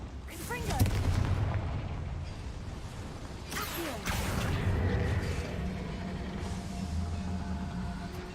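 Magical Confringo spell blasts in the Hogwarts Legacy video game, set in a small mine: whooshing casts followed by loud booming explosions, two main bursts a few seconds apart with rumbling debris and game effects trailing after.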